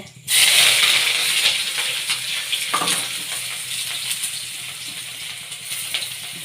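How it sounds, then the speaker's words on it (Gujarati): Mustard seeds, cumin, fenugreek and curry leaves hit hot oil with a sudden loud sizzle and crackle that stays dense and continuous, with a few pops and scrapes, close by. "તેલ ગરમ થઈ ગયું છે તો આપણે રાઈ નાખશું જીરું નાખશું મેથીના દાણા નાખશું થોડાક આપણે કઢી પત્તા છે તે નાખશું"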